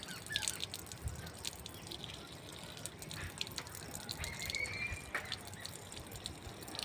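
Water runs from a household tap in a continuous, close splashing flow, with faint background chirps and no clear talking.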